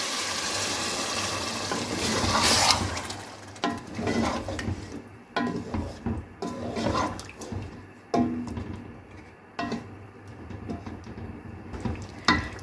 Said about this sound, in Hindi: मैं 1 कप पानी डाल रही हूँ